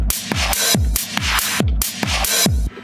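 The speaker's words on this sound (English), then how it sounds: "Beefing that up with a filter and a compressor to make it" Electronic four-on-the-floor drum beat, with punchy booming kicks on every beat alternating with bright noisy hits, thickened by a filter and a compressor; loud, tight and steady for about three seconds.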